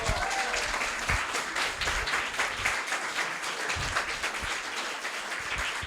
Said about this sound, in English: so you can applaud